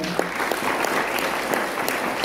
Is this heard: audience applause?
yes